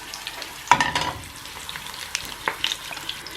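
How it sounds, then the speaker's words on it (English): Sage leaves fry briefly in hot oil, giving a crackling sizzle with sharp pops and spits as they are stirred, close and moderately loud with no voices. "It's kind of like deep frying, I suppose."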